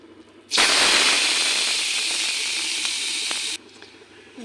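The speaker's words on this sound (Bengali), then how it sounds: "গাজরটি ঘি দিয়ে ভাজা করে নেব" Carrots drop into hot ghee in a kadai, the first step of a carrot payesh, and burst into a loud, steady sizzling hiss that lasts about three seconds before cutting off abruptly.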